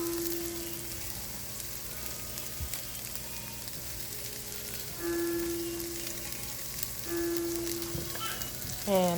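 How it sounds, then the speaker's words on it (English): Bok choy and translucent onions sauté in a pan for Guyanese chow mein, giving a soft, even sizzle that runs throughout at moderate volume, with a few faint tones over it. "I'll let this also saute for just a tad bit"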